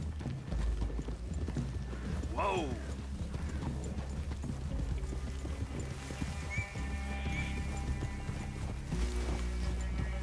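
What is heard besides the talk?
horses' hooves in the video game Red Dead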